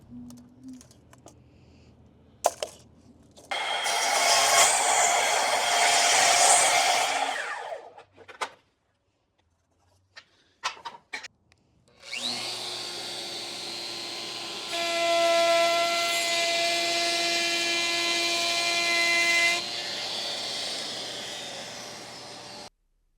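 A power saw cuts a wooden board down to size for an outdoor bench. Two long, loud whining cuts run close by, separated by a quiet gap with a few knocks and clicks.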